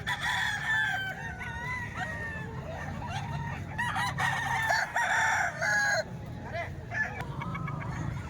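Many chickens cluck and crow together nearby, with overlapping calls and rooster crows over a constant background murmur.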